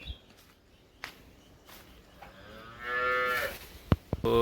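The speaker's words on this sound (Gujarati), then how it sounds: "અને બધી ગાયો ખાઈને આરામમાં છે હાલમાં" A cow on a dairy farm lets out one drawn-out, fairly close moo toward the end, after a quiet stretch of faint barn sounds and a few thuds.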